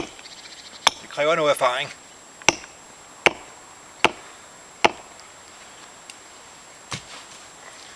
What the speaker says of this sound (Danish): Bruger øksen. God skarp økse.